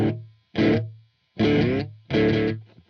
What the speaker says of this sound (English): if we make that delay even further away from the original strike of the note